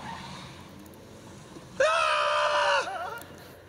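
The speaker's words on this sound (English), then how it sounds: "you hear that scream" People screaming in fright inside a self-driving car on the move, one sustained loud scream lasting about a second, heard faintly through a room's speakers after a low murmur.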